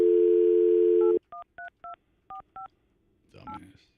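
Telephone keypad dialing tones: a steady dial tone cuts off, then six short, evenly spaced DTMF beeps follow, with a brief burst of voice or noise at the end.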